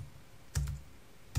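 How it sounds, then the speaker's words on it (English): Short bursts of typing on a computer keyboard, two quick clusters of close key clicks separated by a brief quiet pause. "I'm gonna go ahead and type in glitch like this."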